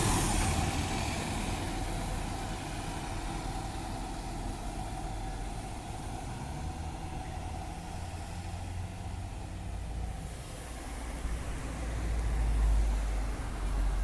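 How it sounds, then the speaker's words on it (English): A Transperth bus drives off around a roundabout toward Midland Station, its engine a steady low rumble that swells near the end, with no voices. "Off goes the bus. Watch it go around the roundabout and go straight back to Midland Station."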